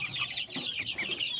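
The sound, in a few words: chicken clucking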